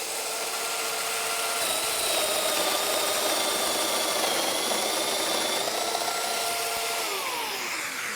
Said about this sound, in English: Cutting mortises has never been easier.